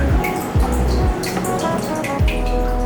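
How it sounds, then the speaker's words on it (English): Hot spring water drips steadily into a semi-open-air onsen bath, a soft continuous watery trickle with a few distinct plops, close and alone. "The steady dripping of the hot spring, paired with the tranquility of rushing river sounds"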